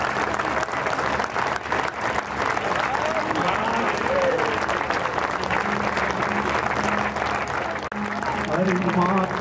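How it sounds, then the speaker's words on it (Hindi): A large crowd at a mahayagya gathering in Gohana claps loudly and continuously in honour of the guru, a thick, unbroken wash of applause with voices faintly beneath it. "तालियां बजते रहनी चाहिए, जितना तालियों का जोर होगा उतना आप सम्मान दे रहे हैं गुरु जी को"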